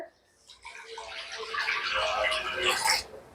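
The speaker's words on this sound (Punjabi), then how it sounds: "ਕੜਾਈ 'ਚ ਪਾਣੀ ਪਾ ਲੈਣਾ ਆ" After a brief quiet moment, water pours steadily into a metal wok for about two and a half seconds, then stops abruptly.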